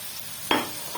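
Chopped tomatoes dropped into a hot frying pan for a potato curry, giving a brief burst of sizzle with a quick stirring scrape, followed by a second softer hiss, close and with no talk.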